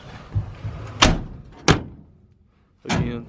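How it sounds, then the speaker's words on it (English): Doors on an all-original 1970 Chevy C10 pickup truck shut with solid, heavy thunks, two close slams about half a second apart and a third a bit later, with faint movement and handling noise between them. "these doors shut so good"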